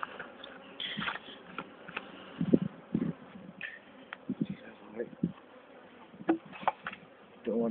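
Honey bees buzzing around a new beehive, scattered close buzzes and soft clicks of handling as frames are moved, with a person talking quietly at times.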